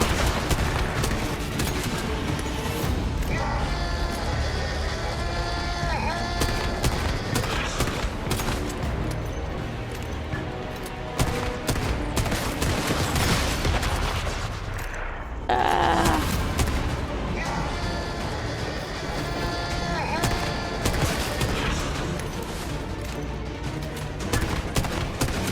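Shotgun fire in Once Human during a fight against Mr Freeze, repeated blasts mixed with heavy combat noise and booms, near and loud throughout, with a voice talking over parts of it.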